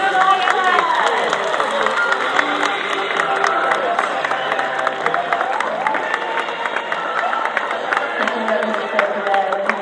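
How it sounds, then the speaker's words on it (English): A speedway stadium crowd at the British Sidecar Speedway Championship final at Belle Vue claps and cheers for a rider and his passenger, a steady, dense roar of applause running throughout with shouts mixed in. "Let's have a huge round of applause for Paul Whitelam and his passenger Terry Saunters."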